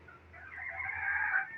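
A rooster crows once at a distance, a drawn-out call rising toward the end over quiet background.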